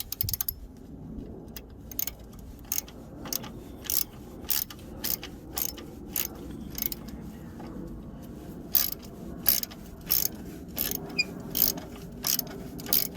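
Ratchet with a deep socket loosening a 10 mm battery terminal bolt on a 2013 Toyota Sienna, heard as rapid bursts of close, dry clicking repeated in irregular runs over a quiet room background.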